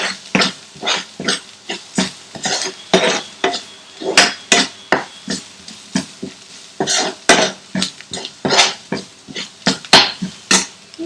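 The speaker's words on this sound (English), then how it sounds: "1/4 teaspoon of turmeric powder, 1/4 teaspoon of red chili powder. Okay, mix all this really good" Spoon stirring turmeric and red chili powder into a paneer palak base in a pan, with rhythmic scraping strokes and faint sizzling, close and fairly loud.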